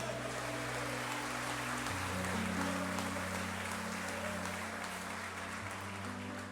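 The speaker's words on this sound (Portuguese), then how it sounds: "Se você crê nisso de verdade, aplaude a Deus aí." A church congregation applauds God during a sermon, a steady, fairly soft patter of clapping mixed with sustained low musical tones, likely a keyboard, that shift in pitch beneath it.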